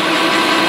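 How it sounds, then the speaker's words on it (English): Metal lathe turning with a boring bar cleaning out a bore while making machinist jack bases, a steady close, loud broadband cutting whine with no pauses. "I'm going in here at the boring bar and I'm just cleaning this out"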